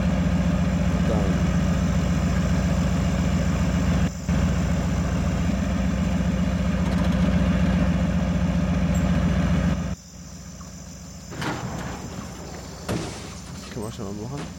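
A heavy truck engine idles in the off-road mud game Spintires, a steady low rumble running for most of the clip before a sudden drop, with muffled clunks and a quieter hum afterward.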